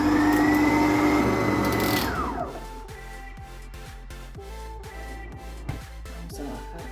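A stand mixer kneads roscón de reyes dough: the motor hums loudly and winds down with a falling whine at about two seconds, then settles into a quieter churn broken by regular soft thumps.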